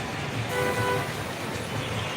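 Busy traffic jam at Jagadamba Centre, with vehicles idling and moving slowly: a dense roadway rumble with a short car-horn toot near the start, heard close by with no talking.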